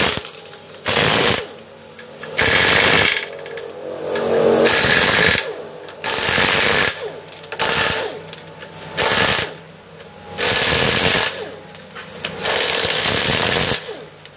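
Bursts of an impact wrench or air tool loosening 12 mm bolts on the rear transmission cover of a Toyota Corolla Altis 2000cc being overhauled, loud whirring rattles of one to two seconds repeated about eight times with short pauses between.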